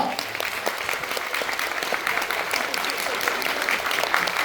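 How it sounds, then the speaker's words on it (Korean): An audience at a reunion gathering breaks into steady, moderately loud applause honoring a late senior's wife and daughter, continuous from start to finish. "이 두 분께도 큰 박수 부탁드리겠습니다"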